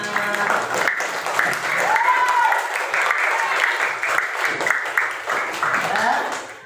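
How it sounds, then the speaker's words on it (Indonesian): A classroom of students applauds steadily for several seconds, dense clapping mixed with voices and a brief rising whoop or cheer partway through. "Tepuk tangan untuk kalian semua."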